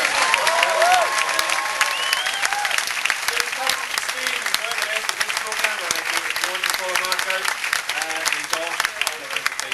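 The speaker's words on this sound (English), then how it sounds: "Let's give Mark Watson and his audience a round of applause" A dense, steady round of audience applause at a comedy show fills the whole stretch, loud and continuous, with a few voices audible within the crowd.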